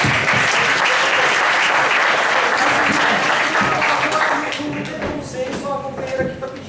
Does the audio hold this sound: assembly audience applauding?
yes